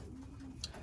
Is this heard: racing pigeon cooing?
yes